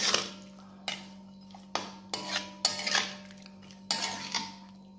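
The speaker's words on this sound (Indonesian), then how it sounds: "Selanjutnya kita masukkan garam, kita aduk dulu ya." Metal spoon clanking against a pan while stirring salt into squid for sweet-and-sour squid, with several separate scraping clinks in an uneven rhythm over a steady low hum, close and fairly quiet.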